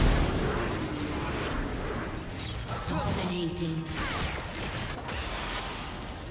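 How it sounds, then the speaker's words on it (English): A turret is destroyed in League of Legends, a crashing explosion buried in dense, continuous game effects and music, with a voice briefly present. "Red Team's turret has been destroyed."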